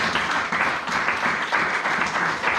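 Church congregation applauding together during a worship service, a steady dense wash of many hands clapping at even loudness throughout.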